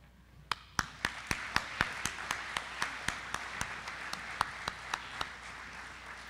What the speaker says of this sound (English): let's give all of our award winners one more round of applause